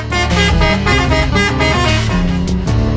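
A tour bus sounds its melodic 'telolet' horn, a loud multi-tone jingle of shifting pitched notes played close and continuously.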